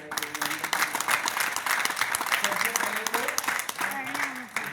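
A crowd applauds steadily with dense clapping, while a voice talks over it.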